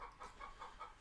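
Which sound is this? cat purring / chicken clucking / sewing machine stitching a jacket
chicken clucking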